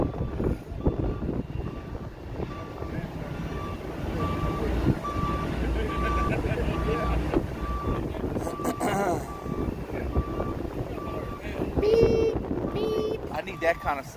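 Reversing beeps sound at a steady, evenly spaced rhythm, moderately loud, over a continuous engine and wind rumble around a pusher tug, with someone talking briefly near the end.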